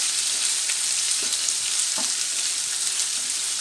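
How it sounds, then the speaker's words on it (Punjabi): Onion frying in a pan over toasted cumin gives a steady, close, bright sizzle throughout, with a couple of small stirring clicks and no voices. "ਹੁਣ ਆਪਾਂ ਇਹਦੇ ਵਿੱਚ ਪਿਆਜ਼ ਪਾ ਦਾਂਗੇ"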